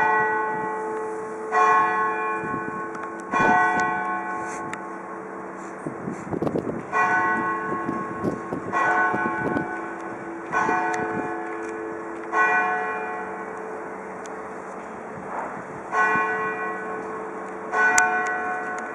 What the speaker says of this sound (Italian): viene eseguita una melodia a martelli sulle tre campane